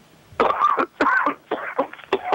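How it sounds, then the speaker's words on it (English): Someone coughs and clears their throat in a rough, wet fit of several close bursts, loud and near, with no speech over it. "Coughing up something."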